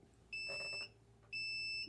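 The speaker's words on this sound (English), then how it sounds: "that's the sound of the beep beep, beep beep" Two steady electronic beeps from a heat press timer, each about half a second long, sound clearly in a quiet room with a short gap between them.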